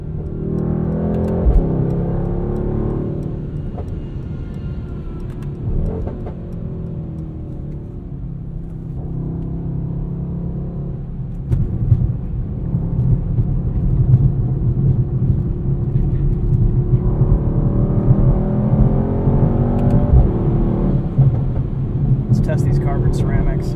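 A 2021 Mercedes-AMG GT63S with all-wheel drive, its engine droning steadily and swelling in a long acceleration, with a voice talking over the engine noise the whole time.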